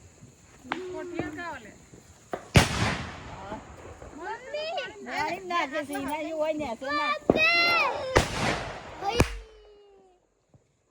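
Diwali firecrackers, including a brass bomb, burst outdoors in a field during family celebrations, with two or three loud sharp bangs standing out amid children and adults talking and shouting throughout.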